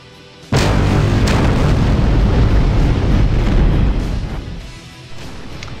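Bombs strike buildings in the Falcon 4 flight simulator: a sudden loud boom erupts, followed by a long heavy rumbling roar that slowly fades, with no voices present.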